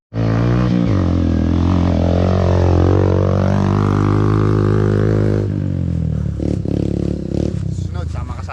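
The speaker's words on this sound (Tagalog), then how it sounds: "Yung gamit pa nating motor 125cc, naka small gear, kalbo pa yung gulong sa likod." A 125cc motorcycle ridden in low gear with a bald rear tire on a hilly viewpoint road: a loud, close engine drone that rises and falls steadily, then roughens with rattling and wind buffeting.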